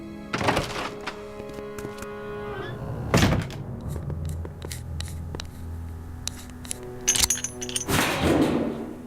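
In the Back to the Future video game, a door is opened with a series of sharp mechanical thunks and clicks, loud and close, separated by brief pauses. Faint game music hums underneath.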